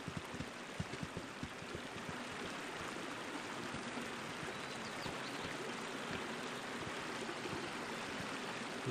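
Flowing water from the game Baldur's Gate, a steady rushing stream with a dense, continuous hiss and faint scattered drips, even in level and heard alone without talk.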